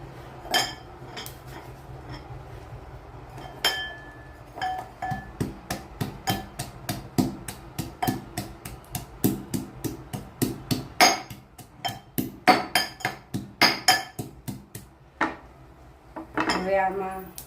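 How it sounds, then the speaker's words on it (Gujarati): Garlic cloves are pounded in a mortar with a pestle at the stove, a long run of sharp, hard knocks in an uneven rhythm, close and fairly loud, with a few metallic clinks. "લસણને વાટી દઈએ."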